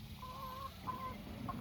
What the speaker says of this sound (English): Chickens coming in from our tunnel.